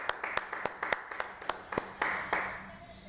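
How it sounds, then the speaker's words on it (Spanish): Scattered, sparse hand claps from a small group, about a dozen distinct claps in a loose uneven rhythm, quiet and close, with no talking. "Un aplauso."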